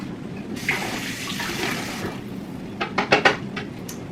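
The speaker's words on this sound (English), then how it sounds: "Then what I do is I use the room temperature water." Room temperature water poured into a cup for mixing, a steady soft trickle lasting about two seconds, followed by a few sharp clinks and taps of the cup and utensil, all close and moderately quiet with no talking.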